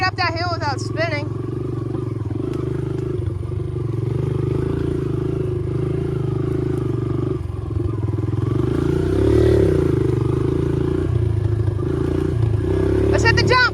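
Dirt bike engine revving and churning through deep mud on a trail, loud and continuous with pitch rising and falling as the rear wheel spins, with brief voices near the start and end.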